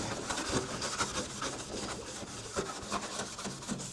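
Cloth rubbing steadily with panel wipe along the panel edges of an Audi TT, a close, continuous scrubbing texture with a few slightly louder strokes and no talk.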